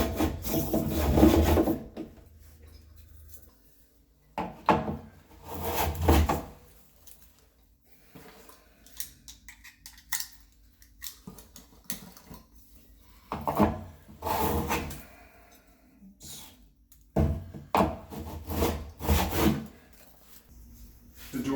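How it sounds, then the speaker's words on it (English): A rabbet plane shaves wood off a door jamb in a series of separate rasping strokes, each lasting one to two seconds, with quiet pauses between them, close and distinct. "I've got this rabbet plane, which will go right into a corner tight, and I can just plane delicately some of that wood off."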